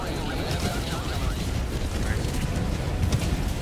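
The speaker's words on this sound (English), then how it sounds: "Okay, I sent an airstrike on the mortars." A Helldivers 2 airstrike pounds enemy mortar emplacements in a loud, continuous roar of overlapping blasts and rumble that fills the whole stretch without letup.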